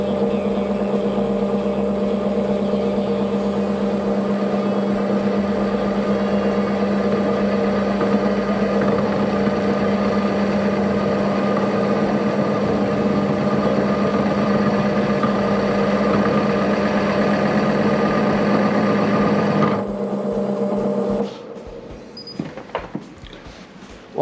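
A wood lathe spins at 500 RPM while turning a small cherry lidded box, a loud, steady close hum with a constant tonal drone for about twenty seconds, then it winds down, followed by a few faint knocks.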